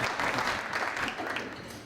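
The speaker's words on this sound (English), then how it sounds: "Applause for applause." Audience applause at a 2014 State of the City address, a steady wash of many hands clapping that holds for the whole moment without letting up.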